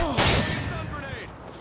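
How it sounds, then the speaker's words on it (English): A stun grenade goes off in a Search and Destroy match on the High Rise map, a loud close bang followed by a ringing, whining tail that fades over a second and a half. "Stun grenade."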